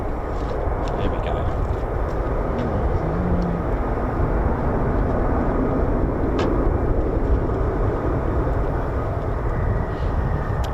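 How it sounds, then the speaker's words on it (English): An F-35 fighter jet taxiing at RAF Lakenheath, a steady broadband engine rumble holding at even loudness throughout, with faint voices at times. "Right, F-35's on the move."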